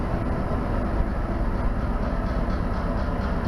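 A B&O Holiday Express model train runs at a train show, a steady, close rumbling roll that keeps an even loudness throughout without any talking.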